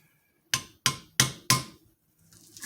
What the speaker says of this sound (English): get your trustworthy hammer